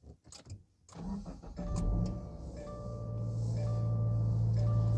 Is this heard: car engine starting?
yes